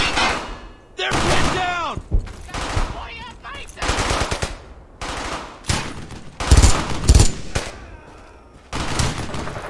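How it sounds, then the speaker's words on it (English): MG42 machine gun fire rattles in long, loud bursts in the Brothers in Arms: Hell's Highway video game, mixed with other gunfire, thuds and shouting voices. "Yeah, the MG42 is really, really good."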